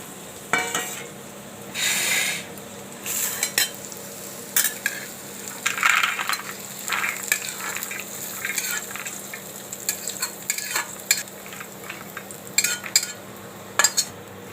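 Green chillies and peanuts are dry-roasted in a pan, with bursts of crackling sizzle and frequent scraping and clinking as a spoon stirs them, no voices.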